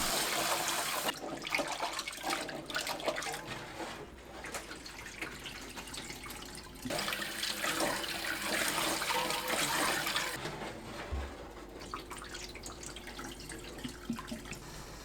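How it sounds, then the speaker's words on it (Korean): Peeled garlic cloves rinsed under a running kitchen tap, with water splashing and gurgling steadily in a sink, the flow surging and easing as the cloves are handled. "마늘은 껍질을 손질합니다. 씻어주세요."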